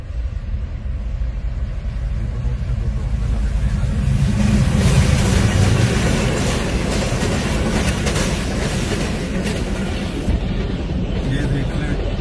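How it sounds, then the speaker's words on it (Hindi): A train rumbles past a railway level crossing where the gate keeper lies fallen, its heavy, steady low roar and clatter filling the scene continuously and loudly, with voices talking over it. "और ट्रेन गुजरने लगी है।"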